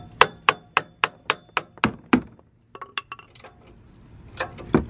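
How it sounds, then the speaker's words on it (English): A hammer hits a socket wrench to free a muffler bolt on a 2018 Subaru Impreza. Seven sharp metallic strikes land in a quick, even run, then a pause is followed by scattered clinks and a few more hits, close and loud. "I'm gonna put the wrench on the front side, socket wrench on the back side, and smack that bitch with a hammer."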